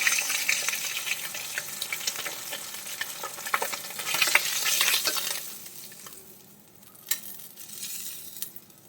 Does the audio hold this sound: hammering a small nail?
no